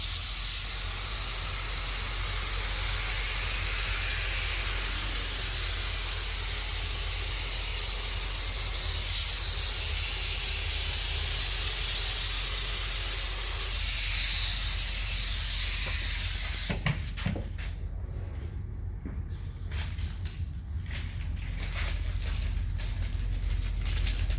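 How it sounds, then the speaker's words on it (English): A steady, loud aerosol hiss of activator sprayed onto hydro dip film continues for a long stretch, then cuts off, leaving quiet clicks and handling noises. "start spraying our activator and get ready to start dipping"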